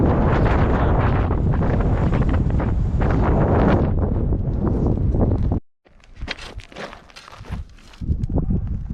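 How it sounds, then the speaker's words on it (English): Wind gusts through desert rock arches, buffeting the microphone in a loud, steady roar that cuts out abruptly, then returns in rougher, uneven bursts. "the wind that comes through these arches"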